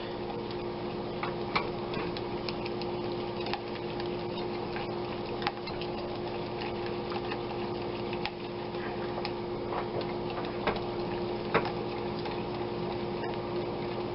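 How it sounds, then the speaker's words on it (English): A whisk taps and scrapes in a pot as butter melts, with light, regular clicking over a low, steady background hum. "we're going to keep whisking this until it's nice and smooth and our butter is completely melted"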